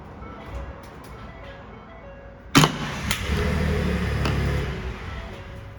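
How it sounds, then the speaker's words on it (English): Fire truck engine cranking and catching, ejecting its plugged-in power cord: a quiet hum, then a loud abrupt start with a clunk as the cord pops free, settling into a steady loud diesel rumble. "this is designed so that when you start the truck, it will kick the cord off and out of the way"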